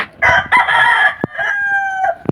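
A rooster crows loudly and nearby, one drawn-out call with a rising and trailing end, mixed with a few short clucks.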